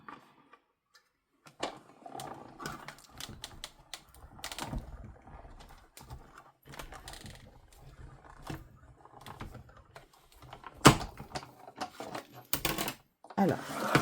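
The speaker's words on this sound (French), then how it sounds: "Je vais découper celle-ci en premier." A greeting card being cut open at home, giving a string of short, sharp snips and paper crackles with irregular pauses, close and fairly quiet, with no talking.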